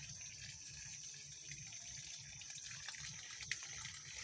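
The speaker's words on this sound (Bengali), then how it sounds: "দেখুন সে কি সুন্দর পানি দিচ্ছে বড়জে।" Water runs steadily from a hose onto a betel vine garden, a soft continuous hiss and splash with a faint tap near the end, quiet and without talk.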